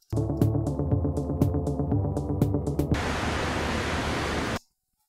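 Music with sharp percussive hits cuts off abruptly to steady broadband ocean noise in Pro Tools, a sudden hard edit with no fade. The surf hiss continues evenly, then stops dead near the end.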